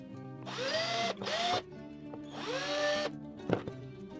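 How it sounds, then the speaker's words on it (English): A power drill boring holes into a headphone housing, three bursts of rising motor whine with short pauses between them, close and fairly quiet, followed by a few light clicks and knocks. "Next I'm going to drill some holes inside the headphones."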